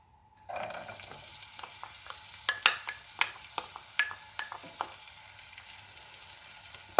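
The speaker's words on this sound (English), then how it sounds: "So once the butter is melted, you're going to be putting in your onions." Onions drop into melted butter over a medium flame and start frying, a sudden sizzle after a brief quiet, then a series of sharp spatula taps and pops over a steady hiss.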